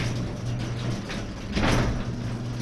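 A garage door runs steadily with a constant motor hum and mechanical rumble that swells briefly midway, close and continuous throughout.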